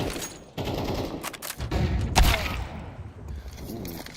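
AK rifle gunfire in a Counter-Strike match at a pro qualifier, with several sharp close bursts of shots, the loudest near the middle, over busy game ambience.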